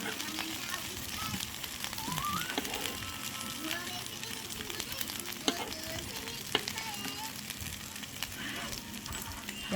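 Food sizzles and fries steadily in a pan while being stirred, with occasional sharp clicks of a utensil, for a Chuseok meal in Korea; voices talk faintly in the background.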